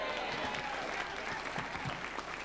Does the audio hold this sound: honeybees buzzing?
no